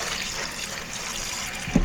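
Water pours steadily into a Thermomix bowl for soup in a home kitchen, a soft continuous splashing stream ending in a small bump.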